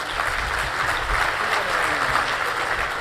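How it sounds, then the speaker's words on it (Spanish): A seminar audience claps for an incoming speaker: dense, steady applause from many hands, loud and sustained throughout with no voices. "Un aplauso para el señor Valdivieso"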